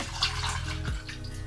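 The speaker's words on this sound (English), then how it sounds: "We take 3/4 of a cup or 210 milliliters milk and pour it directly into a small saucepan" Milk pours into a small saucepan with a short, gentle liquid splash and gurgle, quiet and close, ending in a brief drip after about a second.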